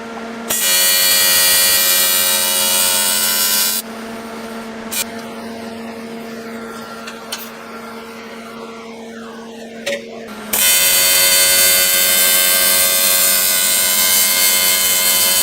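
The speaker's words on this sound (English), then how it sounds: "I just need to sand off this lump here before I can put the fitting on" Power sander grinding a lump off a Skyline catch can, a loud steady whine that drops out for several seconds of quieter handling and scraping, then starts up again at full volume.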